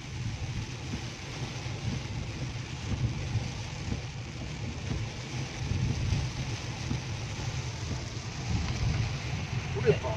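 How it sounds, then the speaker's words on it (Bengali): Heavy monsoon rain heard from inside a moving Skoda Kushaq crossing a bridge, a steady low rumble of tyres and engine blended with dense rain wash, constant and fairly loud throughout with no clear talk. "দারুণ বৃষ্টি হচ্ছে।"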